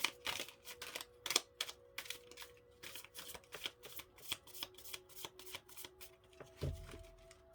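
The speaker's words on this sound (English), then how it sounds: "Give it one more shuffle" Tarot cards being shuffled by hand in a quiet room, a steady run of crisp riffling bursts with short pauses, close and fairly soft, no talk over it.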